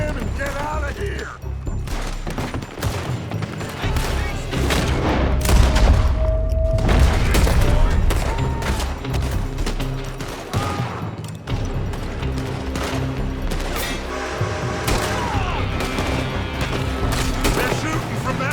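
Loud, dense gunfire from a building during a shootout in Red Dead Redemption 2, with rapid overlapping shots, booms and crashes under game music and shouted voices throughout.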